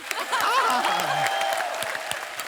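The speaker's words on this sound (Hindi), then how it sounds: "जोरदार तालियां हो" Steady applause from a TV comedy show studio audience on The Kapil Sharma Show fills the space, with a voice speaking over the clapping throughout.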